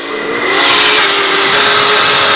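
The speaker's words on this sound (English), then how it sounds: "It's the turbo again." Dakar 2019 rally car under hard acceleration, a loud, close engine roar with a sustained high turbo whine rising over it, steady and continuous throughout.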